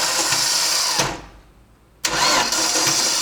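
A car engine runs loudly after a fuel pump swap, cuts out briefly for about a second, then roars back into a steady run close by.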